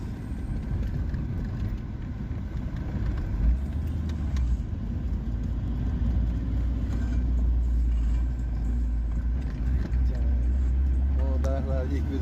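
A car's low engine and road rumble holds steady and fairly loud throughout, with no clear swell of a pass-by, while voices talk over it.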